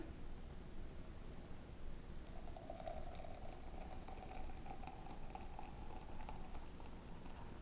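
Water pours over coffee grounds for a plunger-style brew, about 200 grams, a faint steady trickling stream that begins partway through over a soft hissing background.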